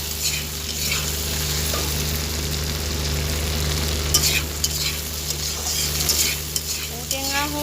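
Fish sizzles steadily in a hot pan for an Assamese sour fish dish, with occasional scrapes and clinks as the pieces are stirred over a constant low hum.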